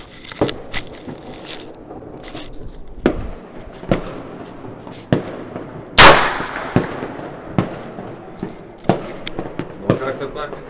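New Year fireworks and firecrackers in Armavir, a series of sharp bangs a couple of seconds apart, one louder blast near the middle, with people talking between the pops.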